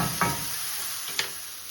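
Vegetables sizzle steadily in a hot pan as they brown, with a soft continuous hiss and two brief scrapes of stirring; no one speaks.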